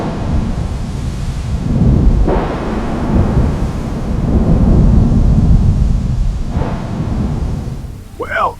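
Deep rolling thunder rumbles in two long swells beneath a wash of rain, loud and close, ending with a brief faint tonal sound.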